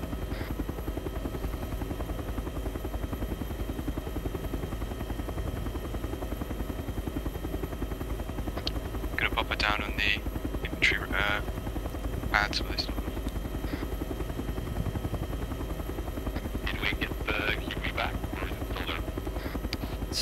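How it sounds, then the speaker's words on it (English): A Chinook helicopter in ArmA 3 drones with steady rotor thrum and engine whine throughout, loud and constant, with people talking over it in places. "Chinook's flying down to the right."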